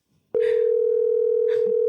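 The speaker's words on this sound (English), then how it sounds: "So I hear it ringing." A steady telephone tone comes on abruptly and holds unbroken on the line during a prank call, loud and continuous, with faint voices briefly audible behind it.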